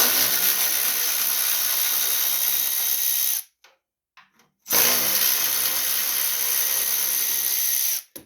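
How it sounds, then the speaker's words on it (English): A power tool whirs loose the 10 mm bolts holding the muffler on a John Deere LA145 riding lawn mower, in two loud sustained bursts split by a short quiet pause. "We got to get these 3 bolts off right here."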